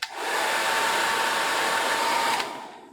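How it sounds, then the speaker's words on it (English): A hairdryer runs on a high setting, a steady loud whooshing blow that starts abruptly, holds evenly for over two seconds, then cuts off and trails away. "you should also be able to get away with a hairdryer on a high setting."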